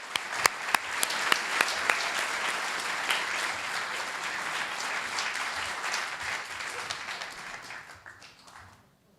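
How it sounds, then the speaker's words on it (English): An audience at a live storytelling show claps loudly for a storyteller returning to the stage, with dense, sustained applause that fades out near the end. "please join me in a big round of applause as we welcome Heidi back"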